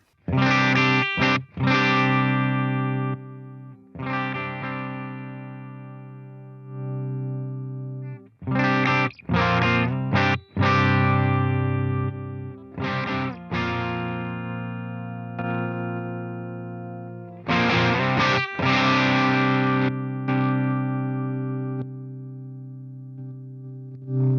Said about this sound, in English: let's try a low distortion setting here